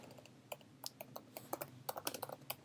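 Quiet, close keystrokes on a computer keyboard as code is typed, coming in quick irregular bursts of soft clicks with brief pauses.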